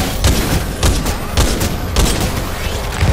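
Rapid gunfire rattles from a weapon in Titanfall 2 during the Satellite Repair mission, with loud repeated bursts and heavy thuds packed across the whole stretch, close and dominant.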